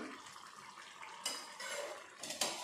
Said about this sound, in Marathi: झाकण काढून घेऊया।